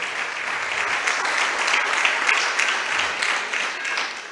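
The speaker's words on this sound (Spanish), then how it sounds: "Denle ese aplauso fuerte al Señor." Loud, sustained applause from a large church congregation, many hands clapping steadily with no pauses.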